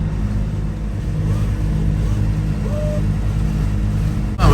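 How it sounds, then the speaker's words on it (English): A sailing catamaran's engine hums steadily at cruising revs, a loud, continuous low drone with no talk over it. "More sensible cruising revs now."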